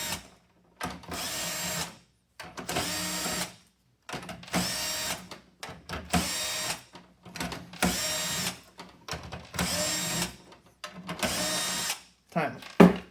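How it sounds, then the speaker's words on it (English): Power screwdriver or drill spinning screws out of a PS5 console cover, roughly eight short bursts of buzzing whir separated by brief pauses, close and fairly loud. "I'm gonna see how fast I can take these screws off."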